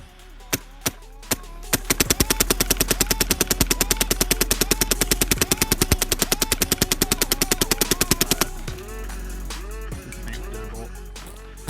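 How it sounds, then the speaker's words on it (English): Empire Axe paintball marker fitted with a Pooty bolt, firing a few single shots and then a long, rapid, evenly spaced string of sharp pops, close and loud, ending abruptly. "Okay, here we have the Empire Axe with the brand new Pooty bolt. Here we're going to be shooting some heat. Listen to the sound signature,"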